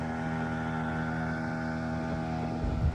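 A small boat motors across the Gundaru dam reservoir near Sengottai, its engine a steady, close hum with droning harmonics and a slight rumble of water near the end.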